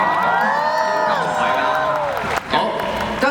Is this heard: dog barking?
no